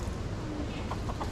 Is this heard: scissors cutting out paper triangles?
no